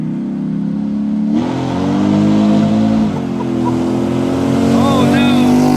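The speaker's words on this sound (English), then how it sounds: "My boy's gonna come do a little drive-by, see how that exhaust sounds." Ford Raptor R truck passing in a drive-by, its exhaust a loud, steady engine roar that swells and shifts pitch as it goes by, with people talking over it.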